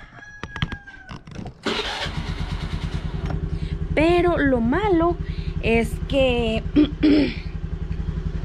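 A motorcycle engine runs with a steady low drone throughout while a rooster crows loudly nearby and someone talks over it.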